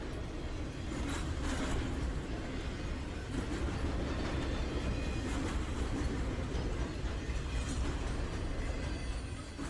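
A freight train with auto racks at the rear rolls steadily past, a continuous loud rumble with faint rhythmic clickety-clack and a slight wheel squeal, no voices.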